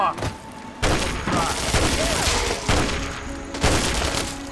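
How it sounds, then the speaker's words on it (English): Rapid bursts of gunfire and heavy thuds from Fallout 3 combat, loud and close, with several sharp volleys firing in quick succession and a voice shouting over them. "Stand still! Open fire."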